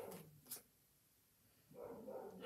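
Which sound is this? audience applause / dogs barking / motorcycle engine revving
dogs barking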